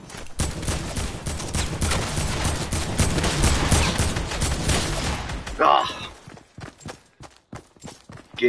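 Rapid bursts of gunfire rattle steadily in Fortnite, dense and continuous at first, then thinning into separate sharp shots with short gaps toward the end.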